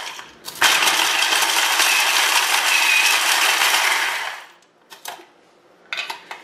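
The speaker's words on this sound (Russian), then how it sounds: "Слегка измельчу их в блендере." A blender briefly crushing nuts in a home kitchen while preparing Egyptian sahlab, a loud steady whirring grind for about four seconds that stops abruptly, followed by a few short clattering knocks.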